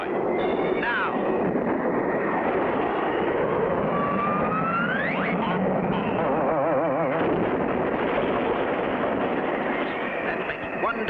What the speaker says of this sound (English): Frenchie Fontaine waits for the takeoff signal, not knowing the other end of the cable that's fastened to the pylon is hooked to his plane's tailpipe.